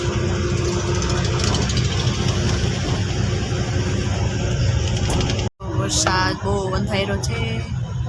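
An air-conditioned bus engine idles in a steady low rumble, broken by a brief cut-out after which voices talk over the continuing hum.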